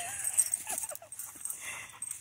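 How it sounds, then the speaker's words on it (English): Several dogs, including an Alapaha Blue Blood Bulldog puppy, whimpering and yipping in short high whines, close by, over a steady background hiss with brief faint movement. "so all the dogs are getting some socialization"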